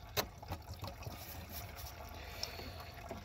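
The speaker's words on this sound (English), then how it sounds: "Hose still dripping." A leaking car hose drips slowly in a quiet garage, producing faint, irregular small drip and trickle sounds spaced through the short stretch.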